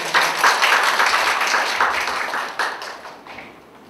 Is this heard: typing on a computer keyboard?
no